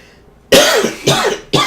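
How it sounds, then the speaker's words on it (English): Three harsh coughs in quick succession, close and loud, each with a rough, breathy burst. "I had to cough."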